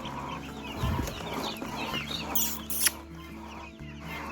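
Broiler chicks, about fifty of them, clucking and cheeping close by on a farm, with steady low background hum and a brief bump of handling noise.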